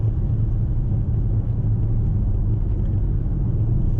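A 2020 Maserati Levante GTS with its Ferrari-built V8 holds a steady, deep, throaty rumble under cruise, continuous and fairly close.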